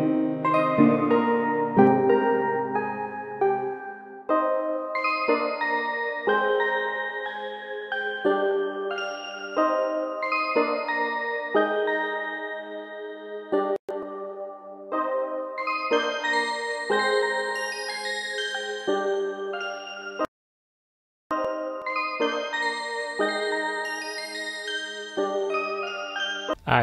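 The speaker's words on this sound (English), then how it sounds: "Alright, so we just got this Omnisphere sound." An Omnisphere synth melody played an octave higher in a sad piano trap beat, with bright bell-like keyed notes in a steady repeating pattern and a brief silent gap partway through.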